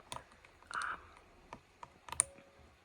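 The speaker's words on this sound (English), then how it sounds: "the sound is actually really good for just like a pre-built gaming keyboard" Scattered clicks on a pre-built gaming keyboard, a short burst of quick key taps and a few sharper presses, close up and fairly quiet with no talking.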